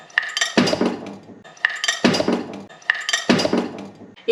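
Cream being stirred into soup in a pot on the stove, with a spoon clinking and scraping against the pot in three repeated bursts of close, moderately loud metallic strokes.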